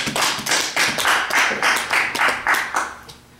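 A church congregation claps together in a steady rhythmic beat, about a dozen loud, even hand claps in a row that fade at the end.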